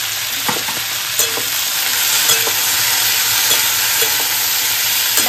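Chopped onion sizzles steadily in hot oil with turmeric powder and chopped green chillies, close up, while a spoon scrapes and stirs the pan now and then, with no talking.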